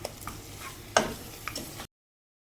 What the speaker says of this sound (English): Stir-fry the mutton with the dry powders for 3 to 4 minutes, as this step helps the meat take up all the flavors